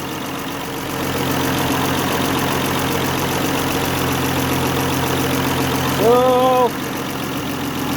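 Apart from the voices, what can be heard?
Chrysler engine idling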